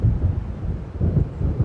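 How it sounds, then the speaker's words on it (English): Thunder rumbles low and heavy during a coming storm in the video game Alan Wake, a deep, rolling roar that swells in slow waves, with no voices over it. "It seems there's a storm coming."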